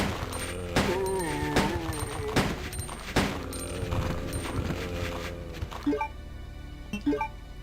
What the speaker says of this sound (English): Let's start with some handgun shots